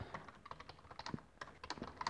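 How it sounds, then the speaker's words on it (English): Quiet, uneven keystrokes tapping on a computer keyboard, a steady run of typing heard close with no voices. "you just start typing."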